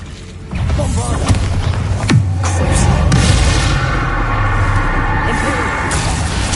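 Bombarda blasting spell cast in the Hogwarts Legacy video game, a sudden boom around two seconds in followed by a long rumbling, crackling wash of debris, with game effects layered over a dense mix.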